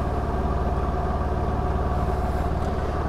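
An attraction motor runs on capacitive discharge pulses from an 18-volt setup fed by a 100 amp battery. It gives a steady, loud droning hum with a fine regular pulsing underneath, and no one speaks over it.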